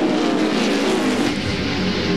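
NASCAR Winston Cup stock cars roaring past at the 1999 Goody's Body Pain 500, a dense, loud, continuous engine blare of several cars at once, with no pause or break.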